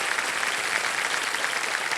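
Steady applause from a studio audience welcoming a contestant's guests on a Hindi quiz show set, a dense continuous clatter of clapping at moderate level with no voices over it.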